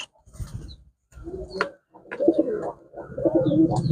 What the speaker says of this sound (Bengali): এগুলো সব আমার দেশি কবুতর